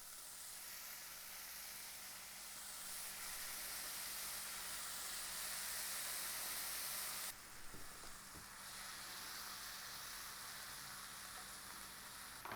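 Soy curls pan frying at medium-low heat, a steady close sizzle and hiss filling the whole stretch, with a brief stir or clatter in the pan partway through.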